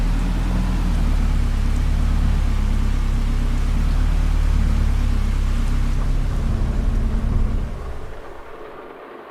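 Steady broadband rain hiss in the Farming Simulator 25 game, loud and continuous for about seven seconds before fading and thinning out toward the end, with no voices.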